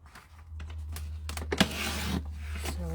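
Scissors snipping through paper to cut it into 1-inch strips for a mini album, a quick run of short crisp cuts with a few louder snips, close up and with no talking.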